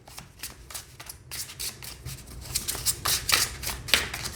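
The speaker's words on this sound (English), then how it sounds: "Yeah, they shuffle very nicely." A deck of Zombie Tarot cards is shuffled close up, giving soft riffling bursts in quick succession that grow louder toward the end.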